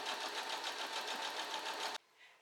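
A sewing machine runs a steady, fast, continuous whir while stitching a seam along the folded edge of a fabric bouquet bag, close and loud, then stops abruptly, leaving faint room sound.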